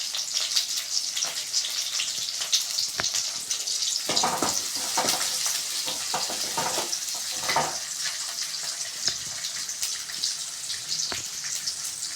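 Chopped small sambar onions dropped into hot oil for a brinjal kulambu, giving a bright continuous hiss and sizzle with bursts of stirring and crackle in the middle, close by with no talking.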